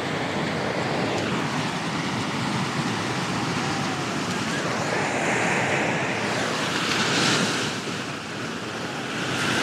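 Loud, continuous roar of ocean surf with waves rolling and breaking, buffeted by wind noise on the microphone.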